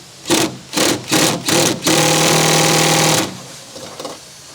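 Power tool driving out the 8mm screws that hold the spoiler on a 2022 Subaru WRX: four short whirring bursts, then one longer steady run of about a second and a half, loud and close, with faint clicks afterward.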